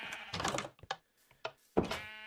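Several Minecraft sheep in an automated wool farm give short nasal bleats, a few quick calls and then a longer one, close and clear with no talk over them.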